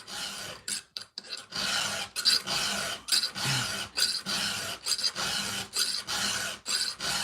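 Hand file rasping across a dull, ragged chainsaw chain, steady back-and-forth strokes in a close, regular rhythm with brief pauses between passes.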